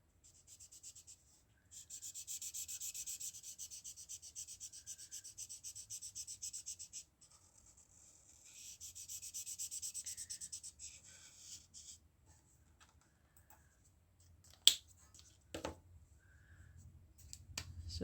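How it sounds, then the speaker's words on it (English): A chisel-nib marker colouring in on paper makes soft, close scratchy strokes in two long bursts of rapid back-and-forth rubbing, followed by a few light taps and short scrapes. "I'm going to switch to the chisel nib to fill in"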